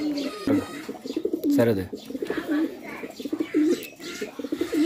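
Pigeons, including Sirazi and running breeds, coo in repeated throaty bursts close by, with a voice speaking briefly among them.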